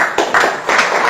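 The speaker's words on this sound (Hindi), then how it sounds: "एक बार ताली होना चाहिए" An audience clapping for Professor Ken Vasupal, a short burst of hand claps in a few loud pulses, close and brief.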